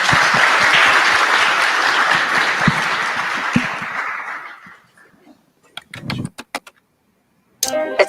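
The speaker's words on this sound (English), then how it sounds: "please join me in giving our speakers a round of applause" A conference audience applauds its speakers. The dense clapping is loud at first, fades over about five seconds, and gives way to a few scattered claps and soft thumps.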